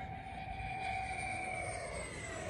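An FMS Futura V2 RC jet with an upgraded ESC makes a high-speed pass, producing a steady, faint high-pitched whine that drifts slightly lower in pitch as it moves past.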